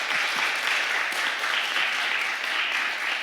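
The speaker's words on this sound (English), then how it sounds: "Can we give a big round of applause to Professor Fred Lazar?" A summit closing panel audience gives sustained applause, a dense, even wash of many hands clapping at a steady level for a few seconds, with no talk heard.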